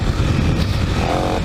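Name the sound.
Kawasaki KLX300 dirt bike engine on trail ride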